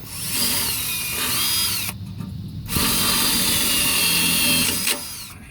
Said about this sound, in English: Did I drill it this way?